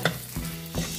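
A quick scrape or two of stirring cuts through a steady sizzle as a stir-fry cooks in a pan, with luffa, squid, pork and black fungus in it; close and brief, and nobody talks.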